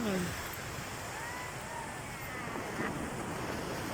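Broadband wash of surf rolling steadily at the beach in San Fabian, with wind buffeting the microphone throughout and no clear pauses.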